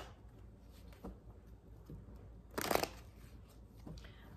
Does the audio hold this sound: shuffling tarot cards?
yes